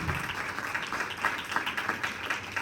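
Applause from a church congregation, a steady mass of clapping that rises and falls over a few seconds, moderately loud and fairly close.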